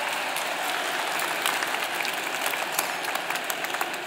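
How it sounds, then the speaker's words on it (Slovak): Audience applause at an anime convention lecture, steady dense clapping from a crowd filling the room for the full stretch without any talk over it. "dajte si potlesk, že ste prišli na túto prednášku so mnou"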